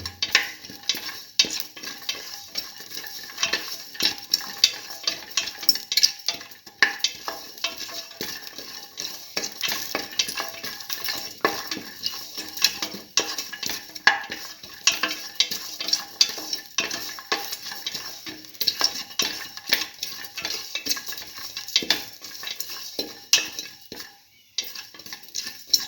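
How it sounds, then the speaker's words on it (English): A tomato and split pigeon pea mixture is sautéed and stirred in a pan for a vegetarian wrap, with a steady sizzle of frying under continual scraping and clinking of a utensil against the pan throughout. "Saute and mix thoroughly"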